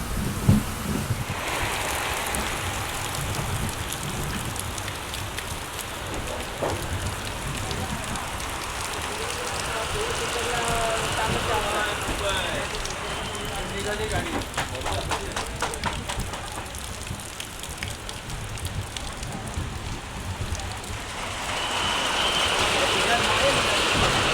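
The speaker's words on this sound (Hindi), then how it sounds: "बारिश इतनी हो रही है" Heavy monsoon rain pours steadily at Khed railway station on platform 1, a dense continuous hiss of drops drumming on surfaces, with a voice talking faintly beneath it.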